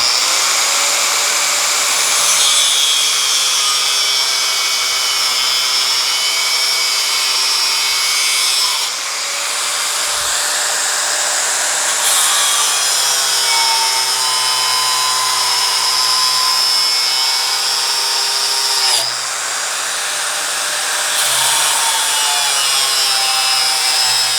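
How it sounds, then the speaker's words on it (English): Power saw cutting through a plastic garage door opener key fob, a loud high-pitched whining buzz that holds steady with a few short dips in pitch as the blade bites, no talking. "All right, let's do some cutting."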